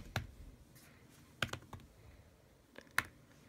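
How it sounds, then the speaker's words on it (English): Typing on an Apple keyboard for an iPad Pro: three distinct, close key clicks spaced out over a few seconds against a quiet background. "type something random in"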